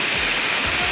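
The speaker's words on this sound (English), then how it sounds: "It is another beautiful waterfall." A waterfall near Juayua on the Seven Waterfalls hike, heard as a loud, steady broadband rush of falling water that stays unbroken throughout.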